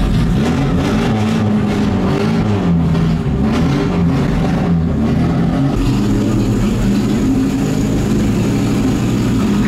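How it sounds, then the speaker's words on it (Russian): A 1957 Moskvich 402 with a straight-through exhaust runs loud and close, its rough engine revving in uneven surges before settling into a steadier drone. "Просто заведу тебе, покажу, как машина работает."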